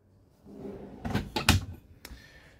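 A large soft-close drawer in a 2021 Salute Barracks Family Bunk caravan kitchen slides and closes, with a few soft knocks and a gentle thud, close up and fairly quiet.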